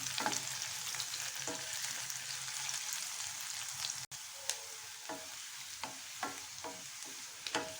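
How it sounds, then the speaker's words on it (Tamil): A small piece of ginger sautéing in oil in a pan for instant mango pickle, a continuous close sizzle broken by sharp scraping stirs of a spoon. "இஞ்சி, ஒரு சின்ன துண்டு இஞ்சி, அதையும் நம்ம ஆட் பண்ணி வதக்கி விட்டுக்கலாம்"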